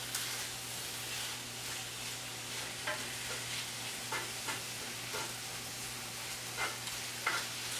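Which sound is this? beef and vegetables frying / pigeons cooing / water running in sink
beef and vegetables frying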